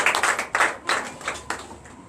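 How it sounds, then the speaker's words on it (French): A short burst of congregation applause at a Sunday church service, with clapping swelling and fading in uneven waves for about two seconds, fairly close. "Donnez l'acclamation à Jésus."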